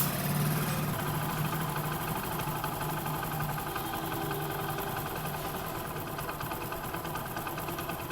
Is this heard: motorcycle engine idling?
yes